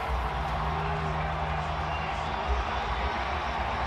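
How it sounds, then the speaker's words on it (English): A stadium crowd in Arlington builds its noise before an NFL playoff game, a steady, distant roar under a voice speaking throughout. "here in Arlington, where the crowd is getting revved up"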